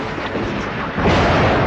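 Thunder in a night storm with sharp lightning, a deep rolling rumble that swells louder about halfway through and keeps growling on without a break.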